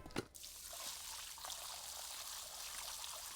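Water pours and spills across a house floor, a faint continuous splashing stream after a brief bump at the start.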